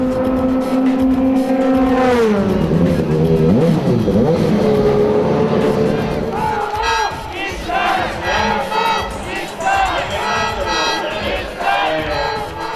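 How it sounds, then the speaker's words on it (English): Nissan GT500 GT-R race cars make demonstration laps for a crowd at a Nismo event, their engines revving and sweeping past loudly while spectators shout and cheer throughout. "The new GT500 GTR then put on some demo laps for the crowd."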